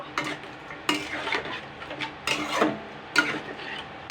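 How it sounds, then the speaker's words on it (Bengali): Chicken feet with tomato and Maggi masala stirred in a pan, a spoon scraping and rubbing in uneven strokes with faint sizzling, close and alone. "এবার আমি এগুলোকে ভালো করে দুই মিনিট মতন নাড়াচাড়া করে নেব"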